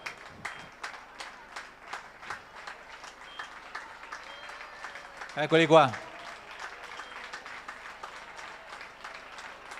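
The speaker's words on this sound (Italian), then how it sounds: "Accogliamoli col meritato applauso." Applause for runners arriving at a relay running event, scattered rhythmic clapping from a small crowd throughout, with an announcer briefly speaking over it in the middle.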